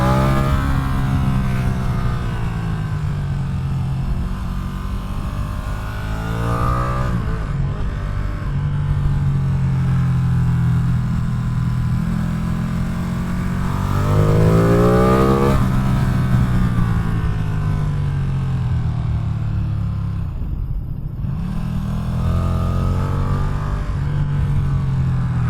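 A Ducati Streetfighter V2 motorcycle pulls hard out of corners on an open road, its engine note climbing in repeated strong surges with a brief lift-off between pulls, loud and steady throughout.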